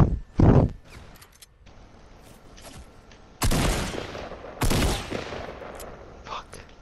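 Gunfire from a Fortnite match comes in a few sharp, separate bursts with quiet gaps between them, and a voice talks intermittently over the game sound.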